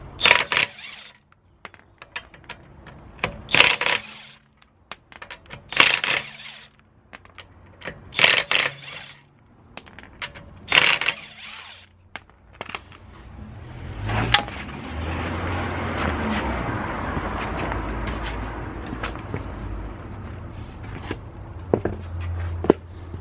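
Rear wheels being removed from a BMW E60 during parking brake adjustment: several sharp bursts of impact-wrench or ratchet clatter spaced a few seconds apart, then a wheel being handled and shuffled with scraping, close by.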